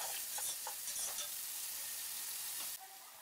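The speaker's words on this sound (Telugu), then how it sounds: "లైట్ బ్రౌన్ కలర్ వచ్చేంత వరకు వేగనీయండి" Chopped onions sizzle and fry in a pan for Andhra chicken curry, a steady bright hiss with a few soft stirring scrapes, close and alone without talk.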